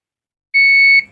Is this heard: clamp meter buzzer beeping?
yes